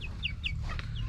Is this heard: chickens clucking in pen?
yes